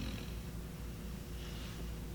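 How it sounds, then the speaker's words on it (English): A dog snoring close by indoors during a makeup session, a steady low rumbling breath that runs continuously through the moment with no talking. "Can you guys hear my dog snoring?"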